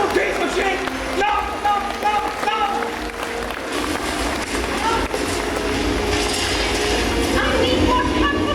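Train rolling sound effect for a stage puppet show at a Berlin furry convention, a loud continuous rumble with rhythmic clickety-clack and squealing wheels, voices talking over it.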